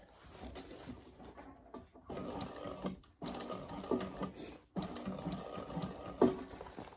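A sewing machine with a seam guide stitches around a thick laptop bag at a generous quarter-inch seam, running in several bursts of whirring needle chatter separated by brief pauses, with small clicks, fairly quiet and close.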